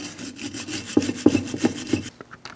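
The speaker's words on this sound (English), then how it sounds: "Then you can get a wire brush." A wire brush scrubbing front brake parts on a 2000-2006 Mini Cooper makes close, rhythmic back-and-forth rasping strokes, about four firm scrubs in quick succession, then stops.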